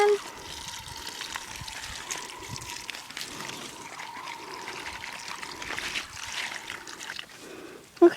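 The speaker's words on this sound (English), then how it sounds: "And I'm going to water it in again." Water poured onto a freshly transplanted daylily in garden soil gives a soft, steady trickle and splash, fairly faint and close, with a louder knock at the very end.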